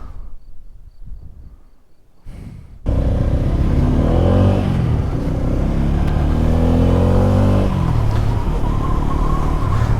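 A Bajaj Pulsar N250 motorcycle rides on a highway, its engine starting quietly then rising abruptly into a loud, steady drone with wind rush and shifting revs through the rest.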